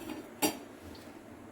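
A metal pot is set down on a lit gas stove, giving one short clink, with faint kitchen background around it.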